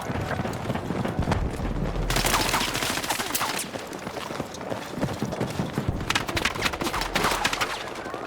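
Gunfire in the Battlefield 6 video game, with rapid bursts of shots and a dense, chaotic battle din running throughout, loudest in several clustered volleys.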